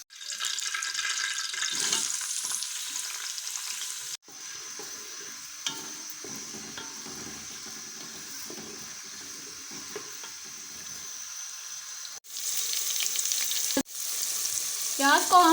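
Sliced onions sizzle steadily in hot oil for Pakistani beef aloo keema, a bright continuous crackle broken by a few short pauses and soft stirring clatter.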